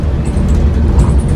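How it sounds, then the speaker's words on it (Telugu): A Volvo 9600 coach rattles and vibrates over a potholed road between Siliguri and Kolkata, with a loud, continuous low rumble of engine and body shake throughout. "బస్సు వైబ్రేషన్స్ మీకు అయితే వినిపిస్తున్నాయి కదా"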